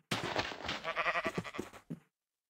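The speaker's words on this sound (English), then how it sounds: "Just die, you fucking sheep!" A sheep in the Minecraft video game gives one drawn-out wavering bleat lasting about two seconds, clear and close, then cuts to silence.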